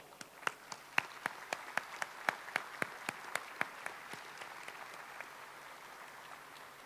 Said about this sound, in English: I'd like to give them a special round of applause.